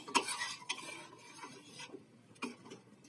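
A spoon stirs rice pudding (payesh) made with date-palm jaggery in a pot on the stove, giving a few soft scrapes and knocks against the metal with quiet pauses between them, and no voices.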